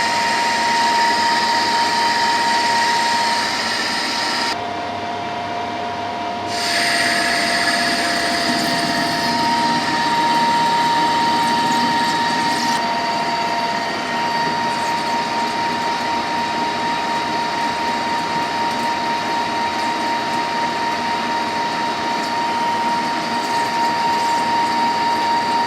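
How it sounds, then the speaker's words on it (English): Machine cutting stainless steel at a 4 mm depth and breaking chips, a loud steady mechanical whir with a constant tonal hum and a brief drop partway, close and continuous with no talk. "That's a 4 mil cut and breaking the chips nicely."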